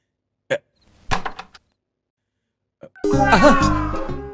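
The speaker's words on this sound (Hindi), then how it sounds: "कोई दरवाजा खटखटा रहा है।" Several sharp knocks on a door in a film scene: a single rap, then a quick cluster of knocks, followed by a door creak and loud clattering movement.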